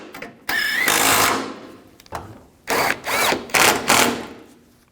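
A power drill drives screws on a fog light of a 2002-2006 Chevy Avalanche, several close, loud bursts of whirring and ratcheting separated by short pauses.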